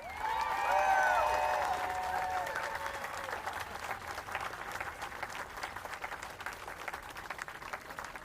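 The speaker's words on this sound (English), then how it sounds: "Let's give another round of applause for Ms. Franco." A crowd at a protest rally calling to close migrant detention camps applauds and cheers, a loud burst with voices rising early, then a lighter, sustained patter of clapping that thins out over several seconds.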